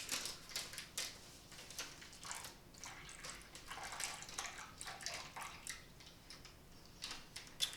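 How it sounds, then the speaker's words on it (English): Water from a water dispenser streams into an MRE pouch in short, uneven bursts, a close splashing trickle that starts and stops repeatedly over a quiet background. "I'm going to go ahead and grab my handy water dispenser"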